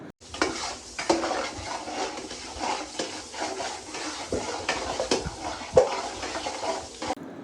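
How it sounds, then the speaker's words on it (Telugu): Sliced onions fry with salt in a pan for a Nellore-style fish curry, with a continuous sizzle and repeated scraping stirs of a spatula against the metal, close and fairly loud, with no talking. "ఈ ఆనియన్స్ కొంచెం ఫాస్ట్గా రెడ్ అవ్వడానికైతే మనం ఉప్పు అయితే వేసుకోవాలి"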